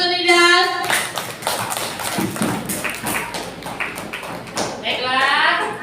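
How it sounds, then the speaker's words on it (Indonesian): A classroom of students claps for their classmate Nida, a burst of quick, uneven hand claps with voices talking over and around them, near and fairly loud. "Tepuk tangan dulu tuh Nida"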